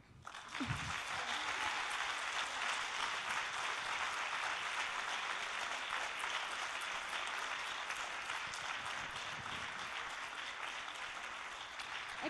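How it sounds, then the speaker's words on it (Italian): An audience at an Italian gathering applauds a woman newly made a university researcher, a dense, steady wash of clapping that holds evenly for about twelve seconds, with a brief voice near the start. "ci tenevamo a farti dare un applauso da tutti noi"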